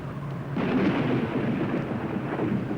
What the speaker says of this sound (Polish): Gniew władcy bogów, symbol strachu i nieokiełznanego żywiołu,